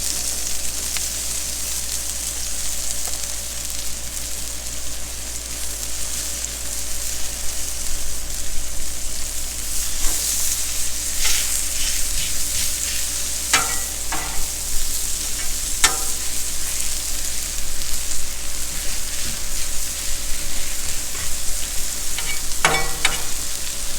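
Mushrooms fry on a hot Blackstone flat-top griddle alongside jalapenos, a loud steady sizzle with crackling pops and a few sharp scraping clicks of a spatula, close up and without talk.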